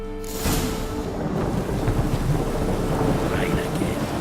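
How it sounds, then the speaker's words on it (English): Steady heavy rain pours down while a deep thunder rumble rolls underneath, continuous and close, with no voices, from The Witcher 3: Wild Hunt video game. "Rain again."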